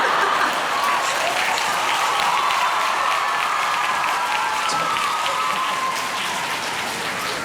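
A concert audience at a solo show claps after a song ends, a dense and steady wash of many hands that fills the hall for the whole stretch without letting up.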